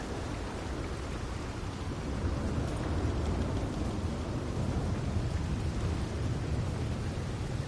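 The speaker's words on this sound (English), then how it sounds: "Always raining up here." Red Dead Redemption 2 rain falls as a steady, dense hiss in the game's mountain setting, with a low rumbling undertone that swells slightly partway through, and no voices.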